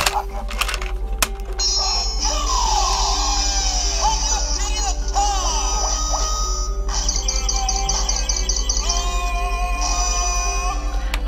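A gashapon Kamen Rider Gaim transformation belt toy plays electronic sound effects and a jingle with chirpy, warbling tones over a steady low hum, continuous and fairly loud throughout.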